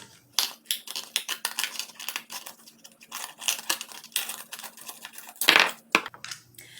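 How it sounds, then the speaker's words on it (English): Scissors snip through a ladybug flower pot craft piece in a quick run of short, crisp cuts and crinkles, close up, pausing briefly before a sharper burst of cutting near the end. "I'm just going to start on this side and continue the cutting."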